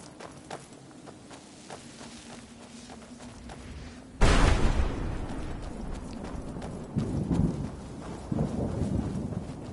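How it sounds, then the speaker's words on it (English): Rhythmic hoofbeats of a galloping horse in the video game Skyrim, steady and moderately loud, with a sudden louder rumble partway through and continuing thuds after. "I don't know if I'm going to find where the horse is running to or running from"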